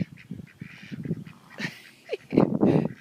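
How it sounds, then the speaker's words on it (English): Canada geese honking from a field, several mixed calls near and far, with one louder burst of honking toward the end. "Can you see the Canada geese in the background there?"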